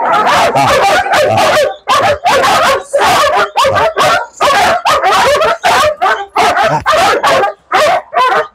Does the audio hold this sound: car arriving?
no